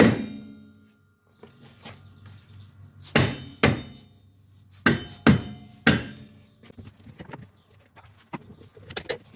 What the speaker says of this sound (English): Alright, so I got my dead blow hammer here. Just give it a few love taps.